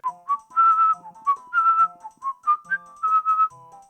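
A person whistles a lilting tune alone, clear and close, with short rising and falling phrases and brief pauses between notes, steady and melodic from start to finish.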